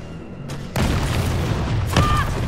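A rocket launcher explosion in Resident Evil 3 gameplay lands as a sudden heavy boom, followed by sustained rumbling and a second thump near the end.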